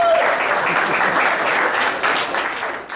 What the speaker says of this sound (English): Ladies and gentlemen, give a round of applause for Jason from Targa Trophy.